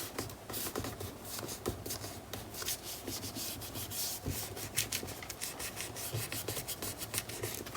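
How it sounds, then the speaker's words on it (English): Paper charms being burnished into place on a glued journal page, a steady dry rubbing and scraping with quick repeated strokes, close and fairly soft, with no talking. "And burnishing everything into place"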